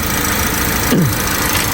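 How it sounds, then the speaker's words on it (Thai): Toyota Vios 1.5 engine idling with the air conditioning running, a close, steady low hum with a brief dip in pitch midway through the short clip. "ผมติดเครื่องเปิดแอร์แล้วนะ เครื่องยนต์ก็นิ่งเงียบเลยนะครับ"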